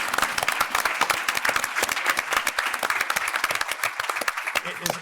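Audience applause at a Legal Services Corporation forum on disaster legal services, a steady round of dense indoor clapping from a seated crowd lasting the whole few seconds.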